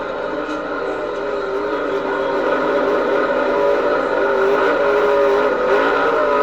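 A race car doing a burnout: the engine roars steadily with a sustained, strained drone and squealing tire noise, loud and continuous throughout.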